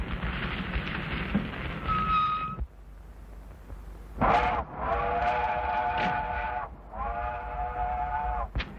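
Steam train whistle from a 1933 comedy short, sounding as several loud, sustained harmonic blasts separated by short gaps, over rumbling background noise.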